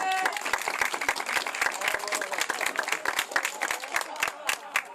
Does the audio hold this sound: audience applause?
yes